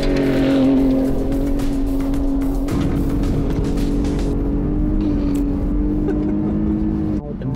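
A truck carrying a lightweight camper is driven fast off-road, its engine roaring loud and constant with a sustained drone and scattered rattles and bumps throughout.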